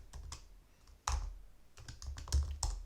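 Python code being typed on a computer keyboard, with quick irregular clusters of close key clicks and a few heavier thumps, likely from the space bar, alone without talk.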